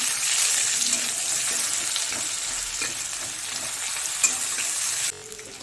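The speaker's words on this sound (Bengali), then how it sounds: "ওই তেলের মধ্যে একটু গোটা জিরে দিয়ে দেবো, একটা মিডিয়াম সাইজের পেঁয়াজ কুচি দিয়ে একটুখানি ভেজে নেব।" Whole cumin seeds and a chopped medium onion fry in hot oil for a rohu fish curry, with a loud, steady close sizzle that cuts off abruptly near the end.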